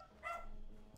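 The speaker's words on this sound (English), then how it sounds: "My dog is barking in the background." A dog barks in the background, a short harmonic bark burst near the middle, fairly faint and somewhat distant in a quiet indoor room.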